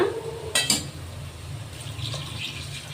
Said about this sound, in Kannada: ಈಗ 1-2 ಕಪ್ ನೀರು ಹಾಕ್ಕೊಳ್ಳೋಣ.